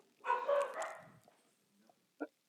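Dogs bark in one loud burst, followed by a short pause and a single sharp yip, heard alone and fairly close.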